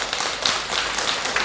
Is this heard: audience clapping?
yes